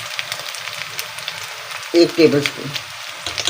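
Garlic-ginger paste sizzles in hot oil with onions in a home kitchen pan, a steady low crackle that swells into a louder burst of spitting midway, then settles; a voice speaks briefly near the start.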